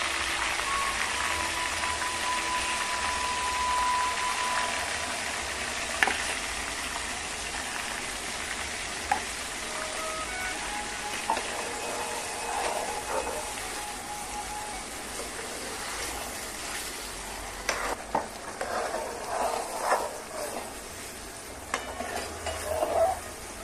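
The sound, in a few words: pav bhaji gravy cooking with asafoetida in pan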